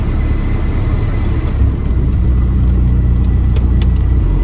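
A VW Rabbit pickup truck with raised suspension drives off, its engine a loud, steady rumble heard from inside the cab, with faint clicks and rattles over the drone.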